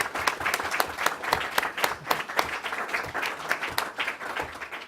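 An audience claps at a conference on food safety in China, producing sustained, moderately loud applause of many overlapping hand claps with no voices over it.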